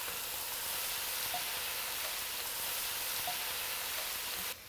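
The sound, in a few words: leek sautéing in a pan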